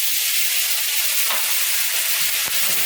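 Orange juice sizzles loudly in a hot pan with jerk salmon fillets, a steady close crackling hiss that holds unbroken throughout, with no voices over it.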